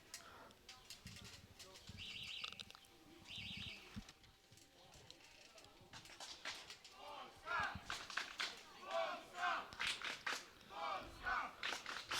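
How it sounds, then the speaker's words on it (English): A Polish crowd chants at a European Youth Cup archery team final, rhythmic bursts of massed voices rising and falling from mid-distance, with some announcer-style talk mixed in early on. "So you can just hear the Polish crowd chanting there"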